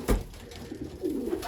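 Pigeons coo softly during feeding on the ground, low rolling calls repeating close by after a brief louder flutter at the start.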